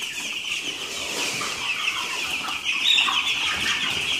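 A crowd of Ross 308 broiler chickens cluck and chirp together in a dense, continuous chatter, fairly close, with no voices.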